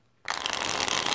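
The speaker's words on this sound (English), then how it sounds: "It shuffles nicely, that's all I can say." A deck of tarot cards is shuffled close by, a sudden dense riffling burst that starts after a brief quiet moment and continues as a steady papery flutter.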